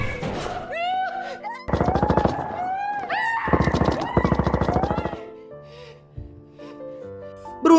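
Rapid machine gun fire rings out in a film scene about the drug cartel of Pablo Escobar, with loud bursts of repeated shots over a dramatic tonal score, and a voice heard briefly.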